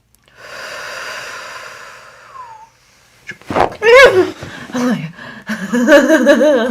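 A patient on a chiropractic table draws a long, slow deep breath in during an adjustment, a soft steady inhale followed by a pause, then close snorts, gasps and murmured voices as the adjustment lands.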